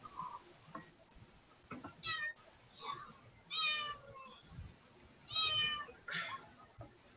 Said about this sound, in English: A cat does not like being moved.